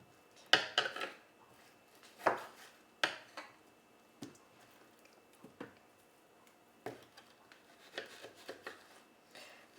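Knife slicing raw meat for homemade freeze-dried dog treats: a series of short, close cutting and tapping sounds in an irregular rhythm, with quiet gaps between strokes and no talking.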